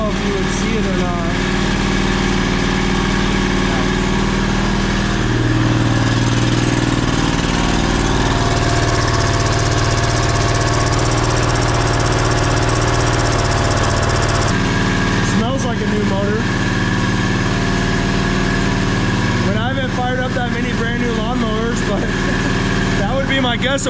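A 670cc Predator engine idling in an E-Z-GO TXT golf cart, a steady, fairly quiet low drone held throughout the clip, with people talking close by over it.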